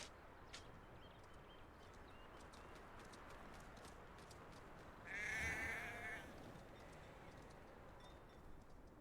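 Horse hooves clip-clop steadily at a distance in Hogwarts Legacy, faint under a constant outdoor ambience, with a slightly louder swell midway.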